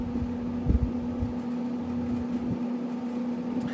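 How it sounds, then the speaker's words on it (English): A steady, low air conditioner fan hums just behind the camera in a room, running continuously beneath a few faint soft knocks. "That's why you hear the air conditioner fan going on just behind the camera here"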